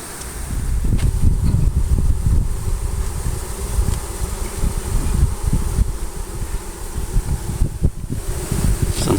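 Honeybee swarm during removal of a hive from under a house, a dense, continuous close buzzing with individual bees passing near the microphone amid gusty wind and rustling, no speech.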